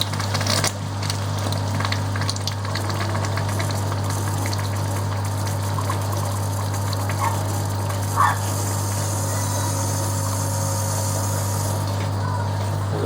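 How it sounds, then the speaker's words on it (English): Tap water rushes steadily through a counterflow wort chiller on a home brew day while a pump runs alongside, a loud continuous mechanical hum and flow with no talking. "There's the water going."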